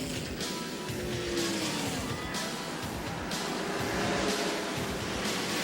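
NASCAR stock cars from the 1994 Pepsi 400 thundering around the track, a dense roar of engines with repeated pass-by swells as the pack sweeps past.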